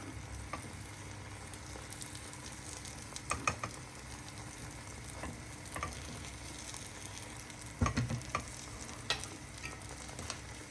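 An egg and cheese chapati fries in butter in a pan. A soft, steady sizzle runs throughout with a few sharper scrapes and clicks from a utensil, and no one speaks.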